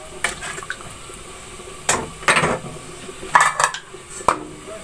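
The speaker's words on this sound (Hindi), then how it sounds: "अब इसको मिक्स कर लेंगे।" A spoon stirs fried potatoes with a glass of water in a cooking pot for degi aloo. Several scattered metallic clanks and scrapes sound close and fairly loud, with no talk.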